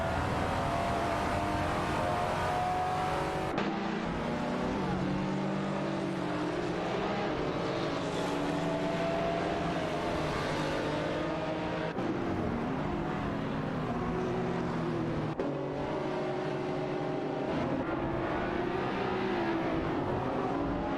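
Race cars roar continuously through an AI racing video game, with steady engine drone and shifting revs over about twenty seconds and no voices.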